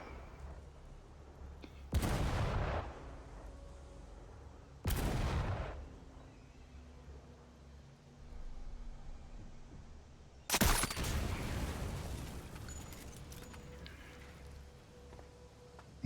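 Gunfire in the Sniper Elite VR video game: three sharp, loud shots with decaying tails, the first two a few seconds apart and the third coming several seconds later, each standing out above a steady low ambient rumble.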